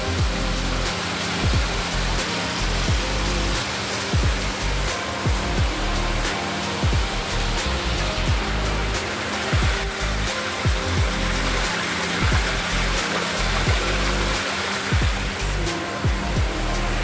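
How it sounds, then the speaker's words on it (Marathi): Rainwater rushing through a drainage channel beside a house, a loud continuous roar of flowing water with no pauses or voices. "जोरदार पाणी वाहतं."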